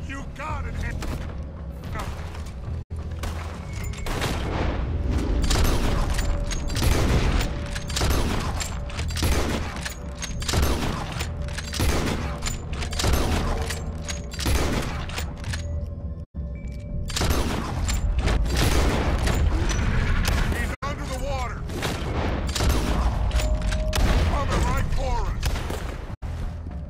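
Rapid bursts of gunfire aimed at an alligator in the video game Red Dead Redemption, loud repeated shots in quick succession with brief pauses, mixed with game sounds.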